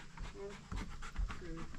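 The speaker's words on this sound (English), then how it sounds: "Why with the panting in the face?" A dog pants close by in short, rapid breaths, steady and continuous over a couple of seconds, with a voice faintly present.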